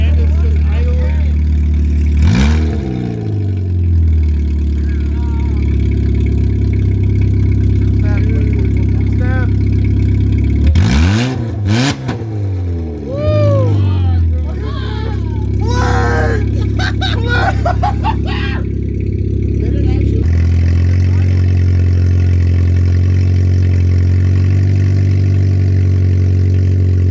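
A 2003 Oldsmobile Alero running an exhaust delete with only headers idles loudly up close, broken by several sharp revs that sweep up and fall back, while people talk over the rumble.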